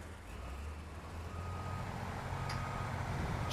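Heavy truck reversing in SnowRunner in Maine's Yellow Rock National Forest, a low, steady engine drone at constant volume with some rumble and faint clunks, no talk.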